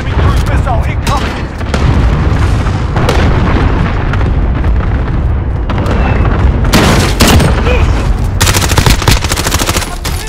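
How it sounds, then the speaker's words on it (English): Booming explosions and bursts of gunfire in a Call of Duty Modern Warfare Headquarters match as a cruise missile strikes, with loud, dense rumbling blasts throughout and the game's radio announcer voice over the top. "Enemy cruise missile incoming."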